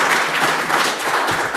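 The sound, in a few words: audience applause for forum panel participants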